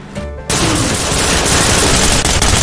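Dense, loud gunfire from a tactical police shooter, Ready or Not, erupting after a brief quiet lead-in and continuing as a sustained barrage of overlapping shots and bursts.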